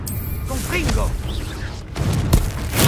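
A Confringo fire-blast spell goes off in Hogwarts Legacy, with swooshing magical effects and a thudding blast near the end, all under a character's voice.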